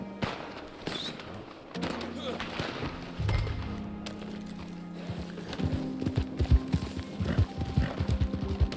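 Horse hooves clip-clop in Red Dead Online, with whinnies and scattered distant gunfire, building to a quick galloping rhythm in the later seconds while a voice talks over it.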